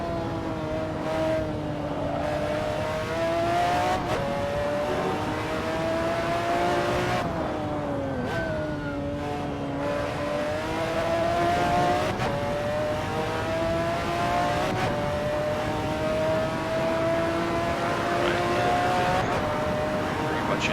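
McLaren F1 GTR race car in Assetto Corsa, its engine droning and revving through rising and falling pitch sweeps with gear changes, steady and fairly loud, with someone talking over it.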